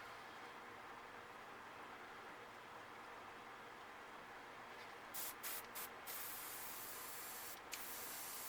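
A light spray of paint hits a fishing crankbait being painted as a bluegill, making a soft, continuous hiss that ends in a few short, sharper bursts.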